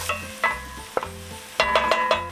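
Chicken and chopped garlic frying in olive oil in a pan, a steady sizzle broken by several sharp scrapes and stirring clatters of a utensil, loud and close with no talking.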